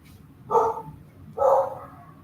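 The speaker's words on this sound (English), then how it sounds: "And Cleo's barking." A dog gives two distinct barks about a second apart, fairly close, with quiet background between them.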